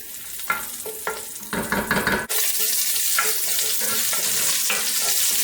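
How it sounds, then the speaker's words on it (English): Garlic frying in a pot for a Caribbean fried potato and stewed pork dish, a steady close sizzle with a few scrapes and stirs, a loud hiss surging up partway through. "We have some nice brown edges on that garlic"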